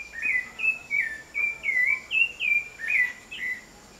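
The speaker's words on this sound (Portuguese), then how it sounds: "Sabiá da laranjeira, tá vendo?" A rufous-bellied thrush sings a steady series of short, clear warbled phrases, evenly spaced and fairly close, with quiet background hiss.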